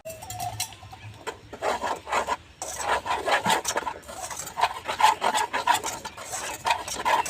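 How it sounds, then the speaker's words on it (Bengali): Gram flour batter with red chilli powder, salt, baking soda and water, for cabbage and prawn chops, being whisked in a bowl: quick, uneven rhythmic scraping and sloshing strokes, close by, with no talk. "জল দিয়ে ভালোভাবে ব্যাটারটাকে গুলে নেব।"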